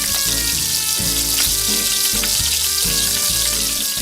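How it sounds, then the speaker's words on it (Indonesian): Free-range village chicken, pre-cooked in yellow spices, deep frying in hot oil: a loud, dense, continuous sizzle and crackle heard close up with no talking. "Langsung kita goreng aja dalam minyak yang panas."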